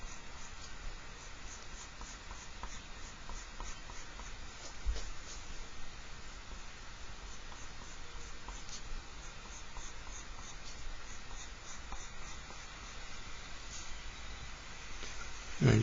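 Pencil drawing a neat freehand curve on paper, a soft continuous scratchy rasp close to the surface, quiet and steady with faint strokes throughout.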